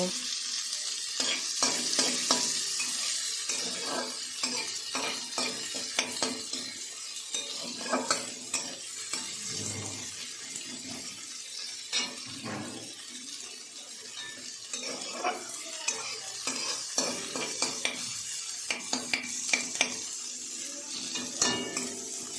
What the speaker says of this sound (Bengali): এই মাছ ভাজার তেলে আমি একটা মিডিয়াম সাইজের পেঁয়াজ নিয়েছি, এগুলো একটু ভেজে নেব